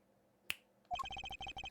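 A single crisp finger snap from the Apollo Justice: Ace Attorney game rings out alone, then a repeating electronic beeping tune begins and carries on.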